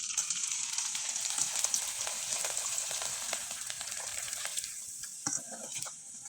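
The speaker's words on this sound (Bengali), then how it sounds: "দেখতেই পাচ্ছেন তেলে দেওয়ার সাথেই পিঠাগুলো ফুলে বড় হয়ে যায়।" Rice flour pitha frying in hot oil produces a bright, steady hiss with frequent small crackles and pops, close and fairly loud, easing slightly toward the end.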